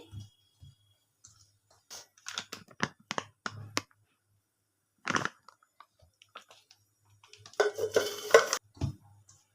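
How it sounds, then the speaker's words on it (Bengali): Flour dough being kneaded by hand with white oil, giving soft, sporadic clicks, squishes and slaps in short clusters against near silence, fairly close and quiet. "সাদা তেল দিয়ে ময়ম করে আমি এটা ময়দাটাকে মেখে নিচ্ছি"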